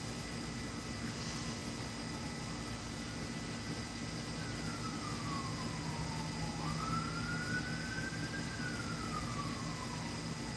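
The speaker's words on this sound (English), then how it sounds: "There's an ambulance going by." An ambulance siren wails in the distance, a faint rising and falling tone sweeping through a steady outdoor traffic hum, heard far off behind the noise with no speech.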